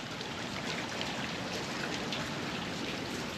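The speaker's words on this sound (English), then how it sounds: "It's raining." Steady rain falling outdoors over a garden with grapevines, a soft continuous patter and hiss at low volume with no other sounds.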